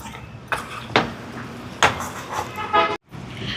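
Utensils clinking and scraping against a pot while egg biryani ingredients are mixed, a handful of sharp metallic clatters at irregular intervals over soft background noise.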